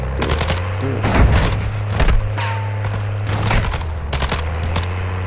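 Loud gunfire in Call of Duty DMZ, several heavy close-range shots and short bursts spaced a second or so apart over a steady engine-like drone.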